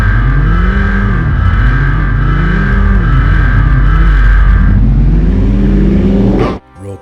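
Futuristic race car engine in a PS1 racing game, a loud synthetic whine that rises and falls in repeated swooping sweeps over a sustained drone, stopping abruptly before a brief final burst.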